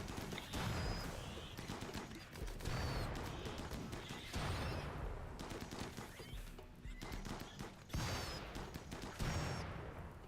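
Rapid bursts of explosions in the colony game RimWorld, a chaotic series of sharp blasts and crackling impacts coming in clustered waves, loud and close, with no voices.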